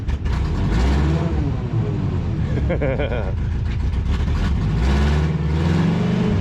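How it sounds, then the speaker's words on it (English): Engine of an old four-wheel-drive truck with gear trouble, roaring loud and close throughout and straining as the gears grind while it tries to move. "It grinds the gears."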